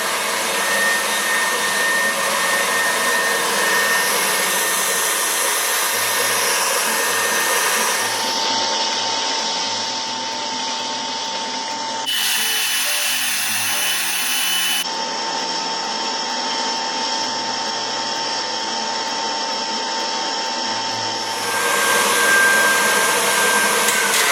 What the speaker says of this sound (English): you really need to be using a machine for this because we are doing an Italian meringue